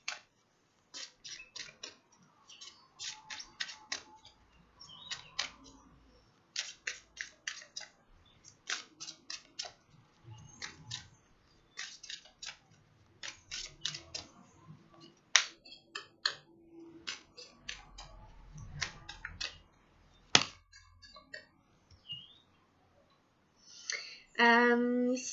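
Cards being drawn and snapped down during a tarot reading, a run of sharp dry flicks and taps coming in quick bursts across the whole stretch, close and fairly quiet, with brief pauses between handfuls.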